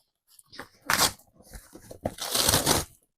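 Loud bursts of tearing and crinkling as taped cardboard packaging is ripped open, two heavy rips with rustling between, close up.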